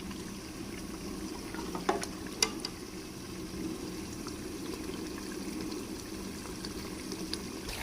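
Chana dal frying in ghee in a pan, a faint steady sizzle and bubbling hiss with a couple of small clinks from utensils, low and continuous without talk.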